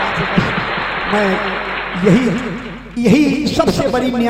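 Audience applause at a jawabi kirtan performance: dense clapping fills the whole stretch, loud and close, while a singer's or speaker's voice carries over it.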